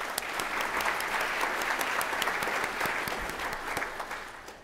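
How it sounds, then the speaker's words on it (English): A conference audience at the NDSS 2019 security symposium gives a sustained round of applause, many hands clapping densely and evenly before slowly thinning out. "So let's give them a round of applause."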